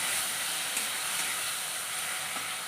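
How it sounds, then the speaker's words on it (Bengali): Tomato frying with spices in a pan makes a dense, even sizzle with a soft hiss, steady and close throughout. "সেই টমেটোটাকেও দিয়ে দেবো দিয়ে ভালো করে এই মশলার সঙ্গে কষিয়ে নেবো বা ভেজে নেবো"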